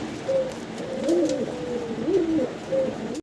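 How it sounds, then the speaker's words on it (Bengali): White satinette pigeons coo in several low, rolling calls close by, repeated through the clip over a faint background hum. "দেখেন সাদা শার্টিন কবুতর।"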